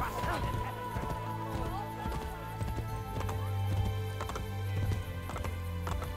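Horse hooves clip-clop at a steady riding gait in Assassin's Creed Brotherhood, up close with constant game music and ambience underneath.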